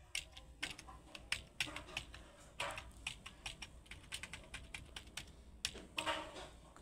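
Someone types on a computer keyboard close by, with irregular bursts of crisp keystroke clicks that come in quick runs and short pauses. No one talks.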